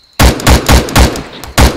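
Rapid bursts of airsoft gunfire crack close by during a milsim game, several sharp volleys in quick succession with brief gaps between them.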